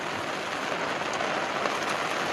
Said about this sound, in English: here's a beautiful day in the rain